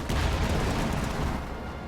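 Anti-infantry strafing run in a WWII real-time strategy game, a loud rolling roar of rapid gunfire and booming impacts that stays dense and steady, easing slightly toward the end.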